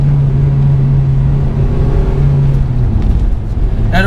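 A Honda Civic Type R FD2 engine drones steadily under load from inside the cabin, loud and close. The tone holds level with no climbing rev sweep, and nobody speaks.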